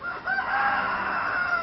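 A fighting rooster kept by a breeder in Thailand crows in one sustained, loud call that holds steady for over a second, near and alone without speech.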